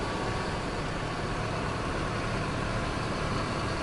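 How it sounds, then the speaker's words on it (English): A truck engine in SnowRunner labours under load while towing, a dense, steady, unbroken roar with no rise or fall and no voices over it. "You can really hear that engine pushing itself just to pull that thing along."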